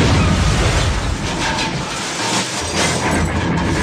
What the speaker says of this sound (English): Who in the world crashed into my car?